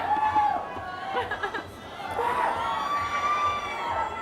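A huge audience of some 1,500 children at a pajama party event screams, whoops and cheers in loud, swelling waves, with excited voices and chatter throughout.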